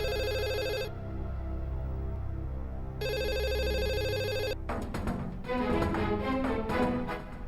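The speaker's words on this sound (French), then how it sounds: "Le téléphone sonne, vas-y et réponds, maman." A telephone rings in a dubbed Indian family drama, with two long electronic ringing bursts separated by a pause, followed by a plucked melodic musical sting, and no one talking.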